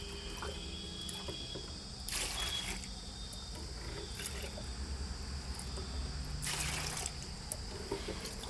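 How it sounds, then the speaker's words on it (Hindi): Water is poured into a container to make banana peel fertilizer, two short splashing gushes over a steady background of chirping crickets. "मैं 6 से 7 डिब्बा पानी ऐड कर दूंगी इसमें।"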